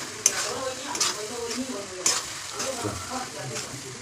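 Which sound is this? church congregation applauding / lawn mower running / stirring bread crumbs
stirring bread crumbs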